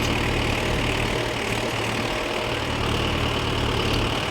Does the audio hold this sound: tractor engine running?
yes